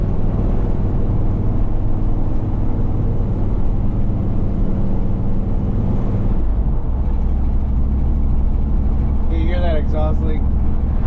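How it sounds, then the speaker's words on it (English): A car engine with an exhaust leak at the header rumbles loud and steady, its low drone shifting in pitch midway as the throttle changes, with a brief high chirp near the end. "Exhaust leak."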